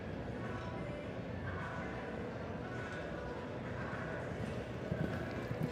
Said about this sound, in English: Horse is really careful.